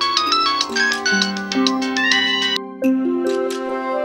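A melodic electronic ringtone plays loudly, repeating a bright chiming tune with a brief pause before it resumes.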